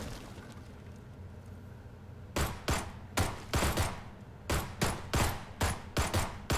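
Auto pistol fire in PUBG, a quiet stretch followed by rapid bursts of sharp, loud gunshots in an uneven rhythm.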